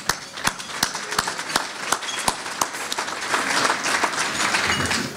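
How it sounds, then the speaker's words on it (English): A small audience claps together, with sharp individual claps standing out at a steady rhythm over a soft wash of hands. "Quick round of applause for them, if you wouldn't mind."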